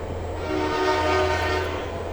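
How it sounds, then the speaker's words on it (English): A Via Rail passenger train passes beside a wakeboard park in Ontario, its steady rumble overlaid by a sustained horn tone that swells and fades. "Oh, and the train has arrived."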